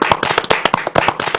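Encouraging applause from an audience at a graduate alumni career talk, a brisk burst of many hands clapping irregularly, close and loud with no speech over it.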